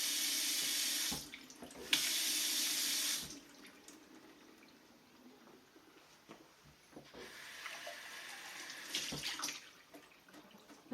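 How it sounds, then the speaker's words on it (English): Water runs from a kitchen tap in bursts, gushing loudly, then trickling softly, then gushing again, with faint clicks and clatter between. "It just comes out the normal faucet for doing the dishes or whatever it might be."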